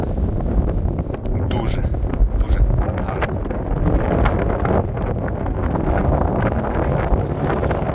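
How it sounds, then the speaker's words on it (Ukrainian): Strong wind buffets the microphone out on the ice during winter pike fishing, a constant loud rumbling roar with gusty low-end bursts, and faint speech now and then beneath it. "Вітер страшний."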